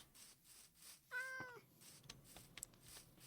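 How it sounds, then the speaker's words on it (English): A cat meows once, close and clear, in a Minecraft Cobblemon village, a short rising-and-falling call standing out from quiet game ambience and scattered soft clicks. "Yes, kitty."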